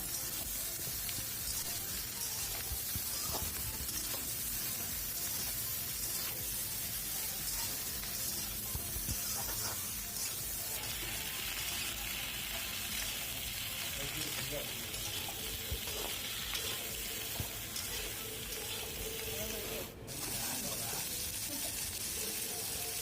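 Flat beans and potatoes fry in a pan until they change colour, making a continuous, fairly quiet sizzle and hiss with intermittent stirring scrapes and a brief splashy spray near the end.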